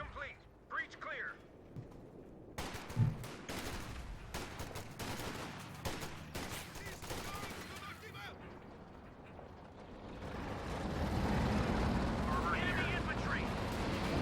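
A Browning machine gun fires in Company of Heroes 2, with rapid bursts of sharp shots and distant battlefield explosions blending into a dense rumble, then giving way to low roaring background noise.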